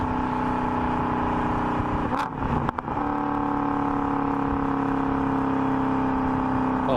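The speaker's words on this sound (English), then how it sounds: "the car rev matches automatically" A manual Audi RS4 B7 with a 4.2 V8 revs loudly and steadily, its engine drone sustained throughout with a brief dip in the middle, close and without talk.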